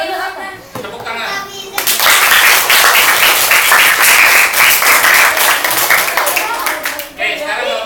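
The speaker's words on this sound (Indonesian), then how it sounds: "Tepuk tangan." A class of sixth-grade primary schoolchildren claps hands together loudly and steadily for several seconds, with a teacher's voice briefly heard before and after.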